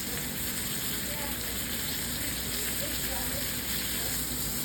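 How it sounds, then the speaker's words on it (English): Chicken searing over high heat in a hot pan, a steady broadband sizzle that holds evenly throughout, close and fairly loud with no pauses. "I'm going to crank it up and sear this a little bit faster"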